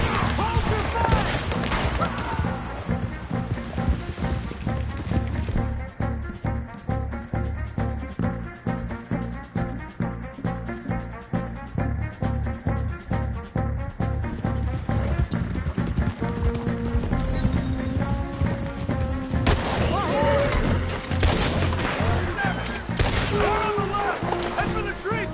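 Red Dead Redemption 2 shootout: steady rhythmic clip-clop of galloping horses runs throughout with repeated gunshots cracking over it, loud and busy, while voices shout in the background.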